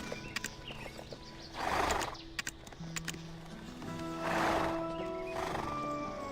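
In Black Desert Online, a horse whinnies twice in loud, drawn-out calls while crisp hoof clops tap between them over a steady game ambience.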